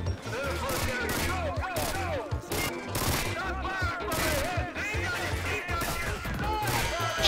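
Rapid Uzi automatic fire rattles nonstop in Modern Warfare 2, dense bursts blending with other gunfire and battle noise, loud and close, with excited voices talking over it.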